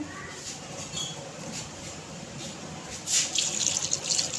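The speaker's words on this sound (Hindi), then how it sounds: "साथ ही हम 1 गिलास पानी का डाल देंगे" Water splashes and trickles into a cooking pot of minced meat, a light continuous pour that grows louder near the end; no talking.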